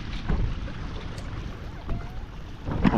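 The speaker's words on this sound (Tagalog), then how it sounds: "humahampas-hampas ang alon natin dito" Waves washing and crashing against the shore at Baseco beach in Manila, a steady broadband wash with wind noise and a few louder surges, close and continuous.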